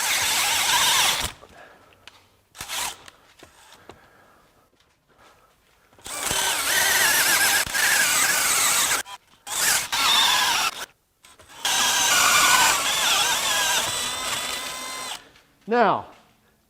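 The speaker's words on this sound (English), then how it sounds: "a minute to drill through with our hole cutter" A hole cutter bores a 3/4 inch hole through lubricated metal in several loud, grinding bursts separated by pauses, ending with a short whirring spin-down.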